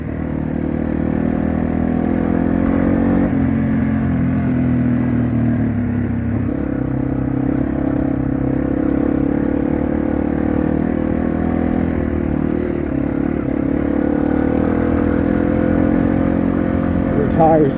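A Yamaha TW200 motorcycle rides off-road on dirt, its engine droning steadily and loudly throughout with small surges of throttle, while a voice talks over it.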